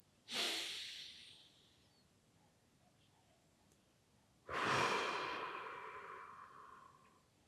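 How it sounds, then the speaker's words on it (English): Two slow, deep breaths during a qigong exercise, each a loud airy rush through the nose and mouth that fades gradually, separated by a few seconds of near silence. "Breathe in."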